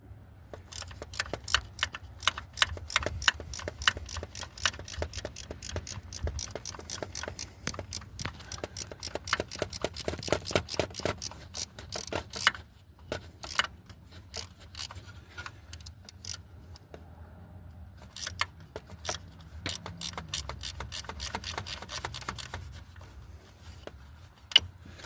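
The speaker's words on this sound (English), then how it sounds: "Alright, so we got a ratchet wrench on here and I'm going to spin this nut off" A ratchet wrench spins a slightly rusty nut off a transmission cooler line on a Pontiac Grand Am, giving long runs of rapid, even clicking up close, with a brief pause midway before more clicks.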